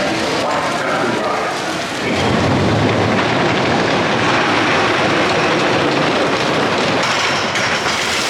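The Big Dipper roller coaster train at Blackpool Pleasure Beach rumbles and clatters along the track with a loud, continuous roar and rattling, broad noise throughout.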